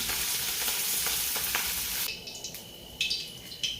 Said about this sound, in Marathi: मी आधी पनीर थोडंसं तेलातून परतून घेणार आहे